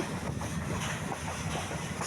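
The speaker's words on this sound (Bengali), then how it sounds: "আর ট্রেনের শব্দটা অনেক ভালো লাগতেছে।" A steady rumbling roar of a moving train on a journey from Chattogram to Sylhet, Bangladesh, fills the clip, with a continuous broadband rush and no voices.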